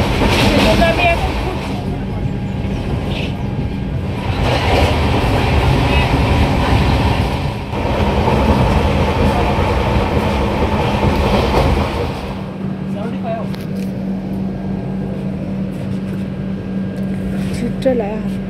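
A passenger train on a Kolkata to Hyderabad journey rumbles along with a steady loud roar and faint clatter heard from inside the carriage, with a voice talking over it.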